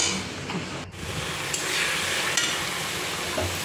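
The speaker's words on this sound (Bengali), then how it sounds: "মশলাটা এখন একটু ভালো করে কষিয়ে নিই।" Spice masala stir-fried in a pan, a steady dense sizzle with stirring scrapes throughout, close and continuous with one brief dropout near the start.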